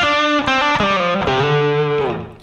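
Electric guitar played through a distortion pedal with the gain turned up to about half, part of a live multi-effects setup, giving a loud, sustained, saturated tone with several note changes across the phrase, heard alone and fading at the end.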